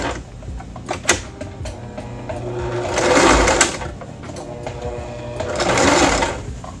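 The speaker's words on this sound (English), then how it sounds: "Now we just need to sew up the edge. Back to the straight stitch" Sewing machine running a straight stitch to close the edge of a knit beanie lined with satin, in bursts of fast whirring with short pauses between, close and clear.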